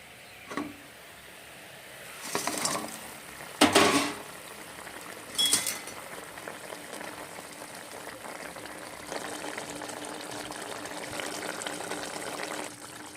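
Fried khoira fish pieces dropped one after another into simmering water in a cooking pan for a fish curry, giving a few sharp splashy bursts followed by a steady low bubbling simmer.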